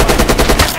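A rapid burst of automatic rifle fire from a 30-round gun in Rising Storm/Red Orchestra 2, about six close, loud, evenly spaced shots with no talking.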